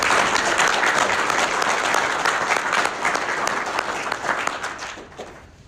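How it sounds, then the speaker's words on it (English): An audience at a highway patrol retirement and promotion ceremony claps loudly and steadily for the DPS Honor Guard, the applause thinning and fading out near the end. "Can I get a round of applause for the DPS Honor Guard?"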